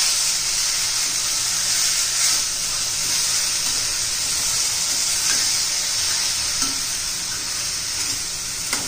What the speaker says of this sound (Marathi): ते पण तेलामध्ये चांगल्या असं परतून घ्यायच्या।